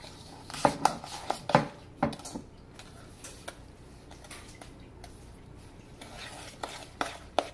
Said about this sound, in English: This is the hardest part because it's kind of hard to stir. It's so thick.